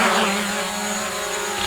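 Hubsan Zino drone lifting off, its propellers spinning up into a loud, close, high-pitched whirring hum that holds steady throughout.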